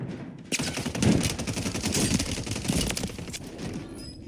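Automatic gunfire in the video game Warzone 3.0 rattles in loud continuous bursts after a short quiet start, dense and close throughout.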